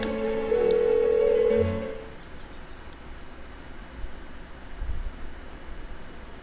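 A telephone being dialed in Persona 4 Golden: a few short electronic tones and a steady dial-type hum that cut off after about two seconds, followed by faint low thuds and quiet background noise.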